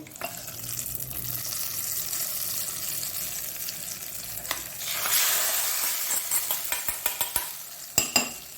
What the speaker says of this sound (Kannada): ನೋಡಿ, ಒಗ್ಗರಣೆ ಪಟಾಪಟ್ ಅಂತ ಆಗುವಂಥದ್ದು